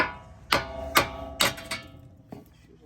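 A ball-peen hammer strikes metal several times while removing tie rod ends on a car, sharp ringing clanks at an uneven pace, followed by a lighter final tap, close up and without talking.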